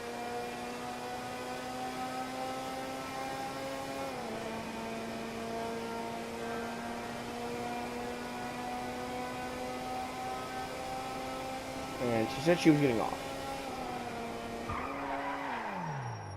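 An Ocelot Penetrator sports car in Grand Theft Auto V drives with a steady engine drone that shifts pitch, then rises and briefly squeals near the end. A short spoken phrase is heard.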